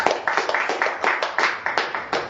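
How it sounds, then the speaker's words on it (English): A small group claps in a steady, rhythmic unison beat, about a dozen distinct sharp claps close by with faint voices underneath. "One round of applause"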